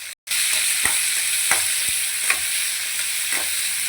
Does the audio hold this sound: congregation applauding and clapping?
no